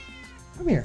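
A pet cat gives a single short, fairly loud meow at the end, just after a quiet voice calls to it.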